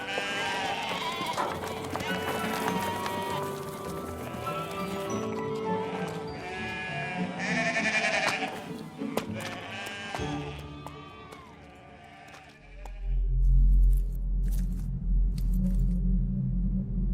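Several sheep bleat repeatedly on a grain-growing farm, overlapping calls near and far, with people talking faintly underneath, ending in a low rumble of wind or handling noise.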